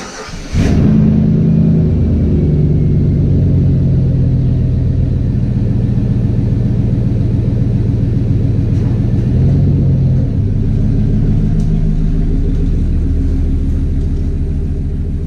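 A truck being driven and turned around gives a loud, close, steady low engine rumble that runs unbroken for about fifteen seconds with slight shifts in tone.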